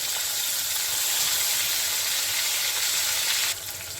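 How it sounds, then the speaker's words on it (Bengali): Pieces of katla fish fry in hot mustard oil, giving a loud, continuous broadband sizzle that holds steady before easing slightly toward the end. "তেলটা আমার গরম হয়েছে, মাছগুলোকে আমি দিয়ে দিচ্ছি"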